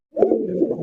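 A sky-coloured Rasgolla pigeon gives a single short, soft coo, close by and alone.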